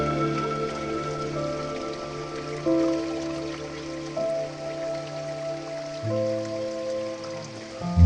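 The Kuru stream on the Uda Maliboda trail to Adam's Peak flows in a steady rushing wash of water, with musical tones layered over it throughout and no speech.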